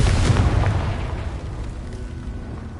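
Confringo fire spell blast in a Harry Potter video game: a deep, loud boom that hits at once and rumbles away over about two seconds.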